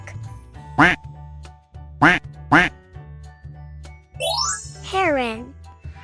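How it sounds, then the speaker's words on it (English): A duck quacks three times in short, loud, nasal bursts, the last two close together, over a soft looping background beat, followed by sweeping chime effects. "Duck."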